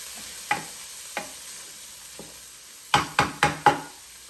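Carrots stirred into bacon fried rice inside a Power XL cooker, a few spaced utensil knocks and scrapes against the pot followed by a quick burst of four strokes, over a faint sizzle, no voices.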